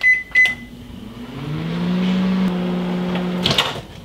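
A microwave oven cooking rice pudding in a mug hums steadily for about three seconds, with short beeps and clicks at the start and end.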